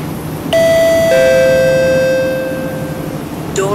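Inside a Roblox simulation of a Singapore MRT train near Kembangan and Tampines, a loud two-note door-closing chime rings out clearly, its tones lingering and fading, followed by a faint sound at the end.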